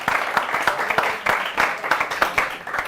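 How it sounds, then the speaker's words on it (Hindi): Audience applause for poet Shambhu Shekhar at a poetry gathering, a loud, close burst of rhythmic clapping with distinct sharp claps repeating in a lively pattern. "एक बार जोरदार तालियां हो शंभू जी हमारे भी"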